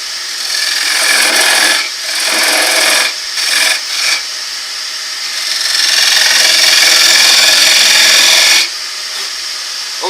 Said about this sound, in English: So put the tool and point it towards the outside of the piece to create an inward dovetail, like so.